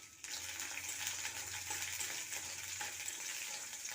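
Beans and mixed vegetables drop into hot oil spiced with cumin, bay leaf, green chilli and ginger paste, and a loud, steady sizzle bursts up and carries on with light scraping and stirring throughout.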